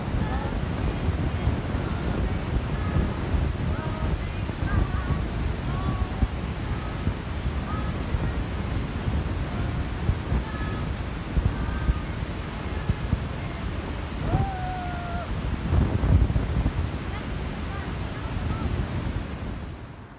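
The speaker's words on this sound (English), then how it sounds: "This is the waterfall." A waterfall and river in a rainy park in Shillong rush in a steady, broad roar, with wind buffeting the microphone and a few faint children's voices in the background.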